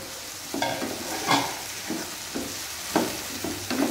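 Raw mixed vegetables sautéed in a pan for veg biryani, with repeated close scraping stir strokes over a soft, steady sizzle.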